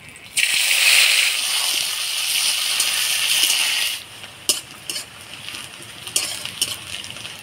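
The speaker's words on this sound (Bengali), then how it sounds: "পেঁয়াজটা একটু লাল করে ভাজি নিলাম" Chopped onion frying in hot oil in a pan, a loud bright sizzle that starts suddenly and holds for a few seconds, then settles into quieter crackling broken by clinks and scrapes of stirring.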